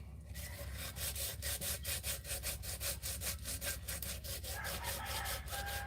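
Sandpaper scrubbing the bottom of a cooking pot to remove burner residue, a loud, close, rhythmic rasping stroke repeated about twice a second without pause, with no voices.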